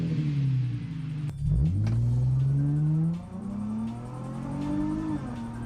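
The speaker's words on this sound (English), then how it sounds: "The exhaust sounds good." A 21-year-old car's exhaust rumbles close by, rising in a quick rev and then settling into a steady, throaty idle that swells again toward the end.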